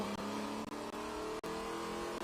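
Chevy Camaro TA2 race car at speed during qualifying at Watkins Glen, heard from onboard: a loud, continuous engine drone with a few brief dips as the driver shifts gears.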